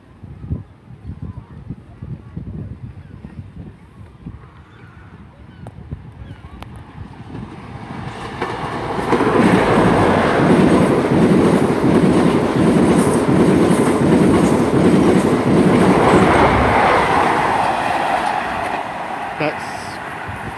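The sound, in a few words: London Paddington to Penzance train passing through Dawlish Warren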